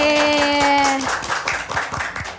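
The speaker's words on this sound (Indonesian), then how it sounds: "Tepuk tangan." Hand clapping from a small group at a school talk show, sharp separate claps in a quick irregular patter, close by, following a sustained tone that cuts off after a second.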